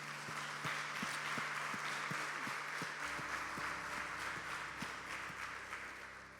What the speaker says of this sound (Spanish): Dale un fuerte aplauso al Señor ahora